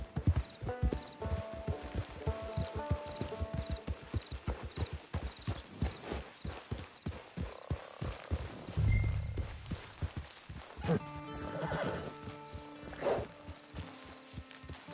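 Horse hooves clip-clop in a steady rhythmic gait in the Western video game Red Dead Online, with game music and ambience behind; the hoofbeats are near and fairly loud, with no clear neigh standing out.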